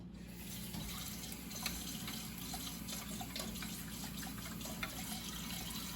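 Tap water runs steadily into a kitchen sink while cooking spaghetti bolognese, a continuous moderate splashing stream with a few faint drips and clinks, no talking.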